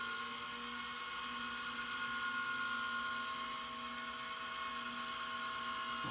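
A VPI HW-17 record cleaning machine runs steadily with its turntable rotating, giving a constant motor whine and hum with no talking.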